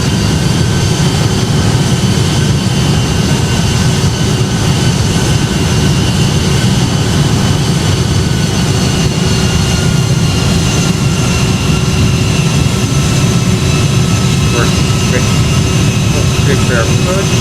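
Boeing 757 jet engines in the Project Flight game roar steadily while climbing after takeoff, a loud, continuous drone with a high whine that persists throughout.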